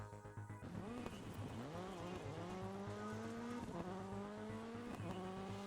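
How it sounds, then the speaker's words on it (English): A rally car in the racing game Dirt Rally 2.0 revs its engine hard through a handbrake turn, tires squealing and skidding as the rear slides, the engine pitch climbing repeatedly through gear changes, loud and continuous. "Then pull the handbrake for up to a second and turn the car. The rear wheels should lock up and get the back end drifting."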